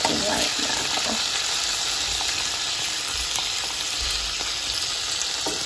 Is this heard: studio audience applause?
no